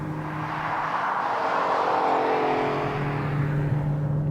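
Dodge Charger SRT Hellcat supercharged engine pulling at quarter throttle at highway speed, heard from inside the car as a steady droning hum under road and wind rush, with no talk.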